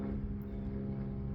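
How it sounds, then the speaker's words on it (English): A propeller airplane drones steadily overhead near a fishing spot, a loud continuous low hum with a rough, throbbing texture that holds without break. "Sorry about the airplane."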